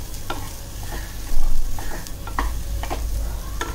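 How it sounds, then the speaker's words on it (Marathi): Onion and spices sizzling in a hot tempering for dahi karela, a continuous close frying hiss broken by sharp scrapes and knocks of a stirring spoon, one louder burst partway through. "फोडणी छान अशी खमंग परतली गेली पाहिजे"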